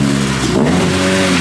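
A Honda CRX's engine revs as the car pulls out, a close, loud, rising mechanical drone with clear harmonic tones that sweep upward under acceleration.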